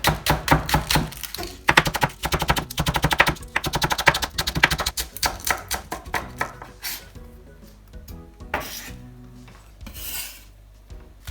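A knife slices a vegetable very thinly on a cutting board in rapid, crisp taps, with bursts of fast chopping broken by short pauses, close and clear with no talking.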